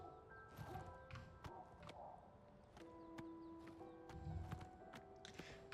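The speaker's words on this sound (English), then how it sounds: "My very first horse." A horse in Oblivion Remastered clip-clops along with scattered hoof strikes and a faint whinny, set against quiet game ambience and soft tonal music.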